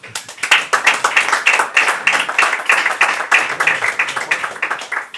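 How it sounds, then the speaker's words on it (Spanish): Audience applause for a speaker at a science talk, loud and dense clapping from a crowd with a quick, even rhythm, continuing throughout without any talking. "Un aplauso para David Galvez."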